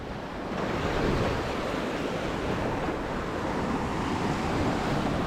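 Calm sea waves wash steadily onto the beach at Playa del Carmen, a constant broad surf hiss with soft wind buffeting the microphone and no distinct breaking crashes.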